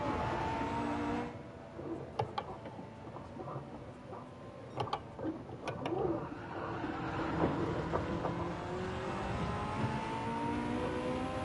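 A race car engine in Gran Turismo 7, Group 1 cars at a Le Mans endurance race, drones steadily with rising and falling pitch as it revs and shifts, with a few sharp clicks over the top.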